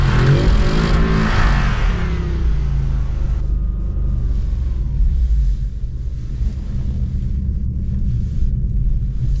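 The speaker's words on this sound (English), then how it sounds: "the car basically does a stationary burnout in the snow" A car engine revs hard and steadily in a stationary burnout in snow, a loud roaring rumble with a rising whine early on as the tires spin without grip.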